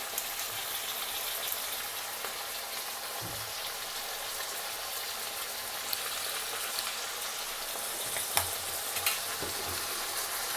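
Ivy gourd masala curry sizzling and frying steadily in a pan, with occasional stirring scrapes under the constant hiss, no voices.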